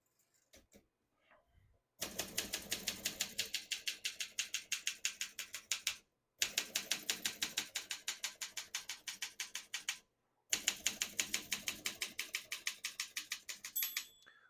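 Keys striking paper on a 1963 Olympia SM7 portable typewriter in three steady bursts of rapid, crisp clacks, each run separated by a brief pause, close and clear with no talking.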